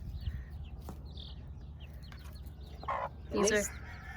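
Soft chicken clucks and chick chirps on a farm over a low rumble of background noise, with a louder burst of clucking near the end.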